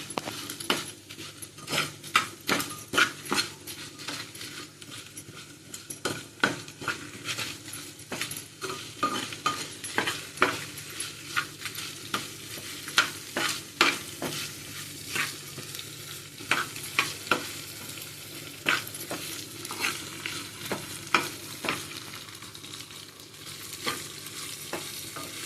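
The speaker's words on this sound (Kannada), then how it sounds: "ಒಮ್ಮೆಲೆ ಹುರಿಯುವಂತ ಎಲ್ಲಾನು ಒಟ್ಟಿಗೆ ಹುರ್ಕೋತೀವಿ." Ingredients for a radish sambar roasting in a pan, with a soft continuous sizzle under repeated sharp scrapes and clinks of a spoon stirring against the metal, close and fairly quiet.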